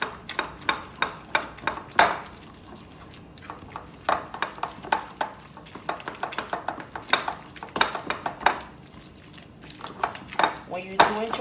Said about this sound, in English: I'm going to be using the bottom of my blender to mash this